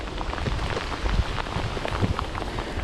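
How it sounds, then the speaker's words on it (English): Heavy rain pours down during a solo bicycle tour in bad weather, a dense, continuous hiss of drops spattering on surfaces close by, with no voices. "it is seriously raining."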